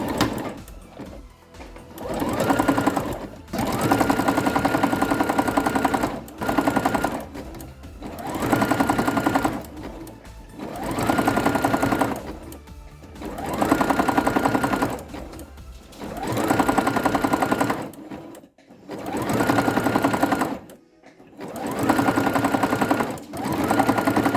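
A sewing machine running a zigzag stitch over two ropes, loud and close, in repeated bursts of rapid mechanical chattering lasting a few seconds each, separated by brief pauses and clicks.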